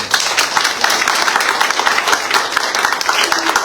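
A church congregation claps hands together in dense, sustained applause, loud and close, with scattered voices mixed into the steady patter.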